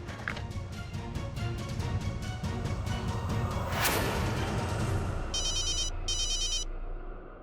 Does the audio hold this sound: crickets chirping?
no